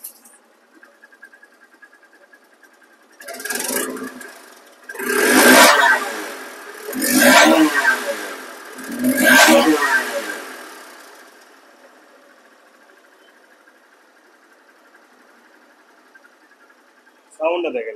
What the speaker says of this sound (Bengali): স্টার্ট কিন্তু হয়ে গেছে, গাড়িটা রানিং অবস্থা আছে দেখুন।